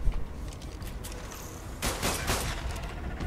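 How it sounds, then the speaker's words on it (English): A pistol firing in Ark Survival Evolved: a few sharp shots ring out in quick succession, fairly loud over a quiet outdoor background. "I'm going to try out my new pistol with you"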